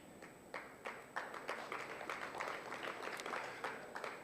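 An audience at the Township Economy Awards 2024 claps hands in scattered, fairly faint applause, with uneven individual claps overlapping into a soft patter that rises and settles over a few seconds.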